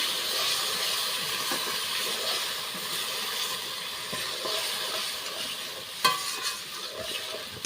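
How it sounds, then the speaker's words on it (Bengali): Spices stir-fried in a pan for a Bengali snail curry, a close steady sizzle and hiss with scraping stirring strokes and a sharp clank near the end. "মশলাগুলো দিয়ে দিই, মেলা কষে নিই মশলাগুলো দিয়ে।"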